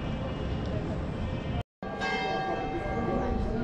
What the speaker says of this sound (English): They are ringing the bell, guys.